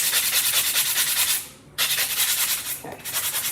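Fine 220 grit sandpaper rubbing back and forth to round off an edge, a close, rapid, rhythmic scratchy hiss with a brief pause midway and one soft knock.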